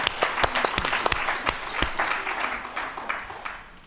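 Applause for an honoree at a head and neck cancer survivor event, dense overlapping claps for about two seconds before fading into scattered claps and room noise.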